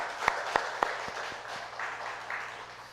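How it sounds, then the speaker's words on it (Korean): A church congregation applauding in thanksgiving, a brief spread of clapping with a few sharp individual claps standing out, moderately loud in a reverberant hall. "우리 하나님 앞에 감사의 박수 올리겠습니다."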